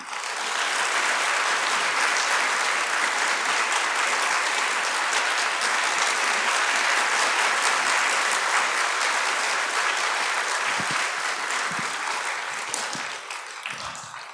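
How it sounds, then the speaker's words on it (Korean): An audience applauds steadily to welcome a journalist to the stage at a lecture on American missionaries in Korea, a dense, sustained round of clapping that fades slightly near the end. "나오실 때 큰 박수로 환영해 주시면 감사하겠습니다"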